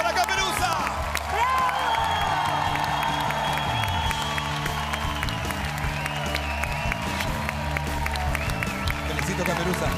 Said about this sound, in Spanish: ¡Aplauso para Caperuza!